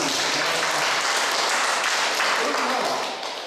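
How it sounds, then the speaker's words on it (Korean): A lecture audience claps together in a steady burst of applause lasting a few seconds before tapering off. "박수 한번 줘봐요"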